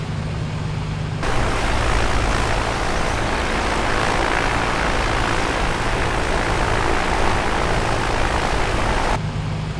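A simulated A2A Comanche piston propeller engine warms up at a steady idle in Microsoft Flight Simulator, a loud, continuous droning hum that holds constant throughout with no talking.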